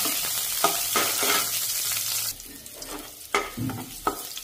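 Garlic sautés in oil in a pan for an ampalaya dish, giving a moderate sizzle broken by stirring scrapes and clatter that thins out partway through, then returns in short bursts.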